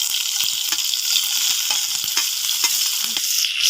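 Onion and green chili frying in hot oil with cumin in a kadhai, a continuous bright sizzle with occasional stirring scrapes, close and alone.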